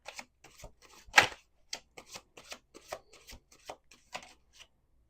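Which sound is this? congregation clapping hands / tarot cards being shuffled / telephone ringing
tarot cards being shuffled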